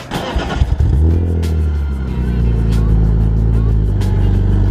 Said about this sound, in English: this is gonna be my first drive in the E36